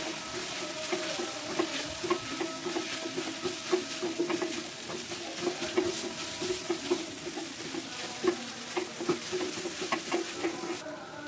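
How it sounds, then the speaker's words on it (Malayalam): Boiled chicken is stirred into a potato and cabbage mixture in a pan, bringing a soft continuous sizzle with repeated scraping and clinking of a spoon against the pan at an irregular, steady pace. "ഇപ്പൊ ചിക്കൻ വേവിച്ചതും കൂട്ടി മിക്സ് ചെയ്യുക"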